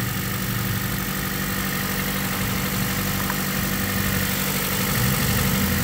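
A cold, not yet warmed-up car engine idles steadily nearby with its radiator cap off during a blown head gasket test, a constant low rumbling hum with slight vibration and no talking.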